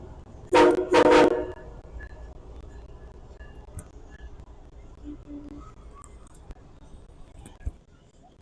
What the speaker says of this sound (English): And there goes the train by.